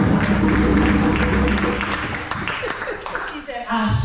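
Clapping from a community audience at a Kwanzaa celebration, loud and close, with voices talking and a hum under the claps as they thin out toward the end.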